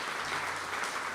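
Brief, dense round of audience applause at an International Education Day event, a continuous wash of many hands clapping evenly at steady volume for just over a second.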